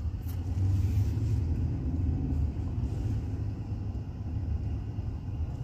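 Steady road traffic in Riyadh, heard from inside a vehicle as a low continuous rumble of engines and tires, with passing cars swelling faintly now and then.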